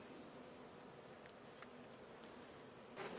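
Swarming honey bees make a dense, continuous buzzing drone, steady and soft, with a few brief closer passes rising out of the hum.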